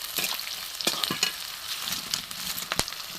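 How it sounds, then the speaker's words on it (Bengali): Chopped onion frying in oil in a pan, a busy steady sizzle with crackling pops and occasional stirring scrapes, close and continuous with no voices. "পেঁয়াজ কুচি দিয়ে দেবো। ভালো করে একটু ভেজে নেবো"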